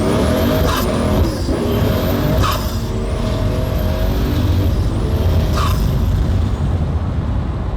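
A car engine runs loudly and steadily close by after a cold start, a constant throaty rumble with a few brief high whistling sweeps over it; nobody speaks.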